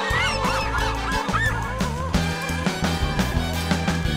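Geese honk loudly and repeatedly, a dense, overlapping run of nasal calls close by with no talking over them.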